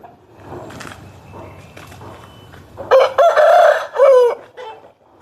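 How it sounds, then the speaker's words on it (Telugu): A big, heavy-bodied Nemali Dega rooster crows loudly up close in one long, wavering cock-a-doodle-doo, following a few softer clucks and faint background sounds. "మంచి డబుల్ బాడీ పుంజు ఇది"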